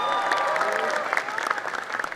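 An audience at a stand-up comedy show gives a short burst of steady clapping, moderately close, with a few louder individual claps near the end.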